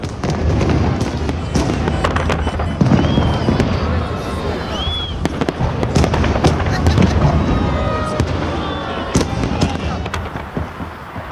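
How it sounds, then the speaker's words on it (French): Huge fireworks display over Saint Petersburg, continuous crackling bursts and distant booms with scattered whistles rising through a steady outdoor roar, loud and dense throughout, with crowd voices faintly mixed in. "Cette journée singulière se termine par un immense feu d'artifice dans le ciel de Saint-Pétersbourg"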